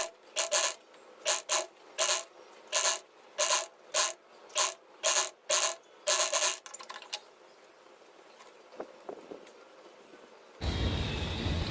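An old sweater is stitched in a round, with about a dozen rhythmic mechanical bursts of clattering and whirring, then a stretch of near quiet with faint handling sounds.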